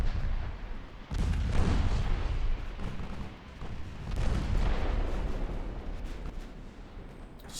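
Naval artillery shells boom from warships in the naval combat game Ultimate Admiral Dreadnoughts, heavy blasts rolling out one after another over a dense, rumbling battle din.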